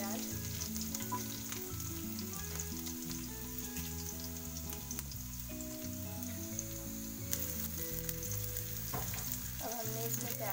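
Onions frying in hot oil in a pan, an even close crackle and hiss that runs throughout with occasional light stirring taps, under faint background music and without any talking.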